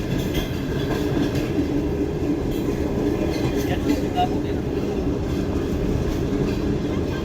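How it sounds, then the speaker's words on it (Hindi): A passenger train runs through the town of Dadu with a steady rumbling roll of wheels on track, and faint voices under it. "तो 5:45 बजे ट्रेन हमारी दौड़ रही है इस वक्त दादू शहर में"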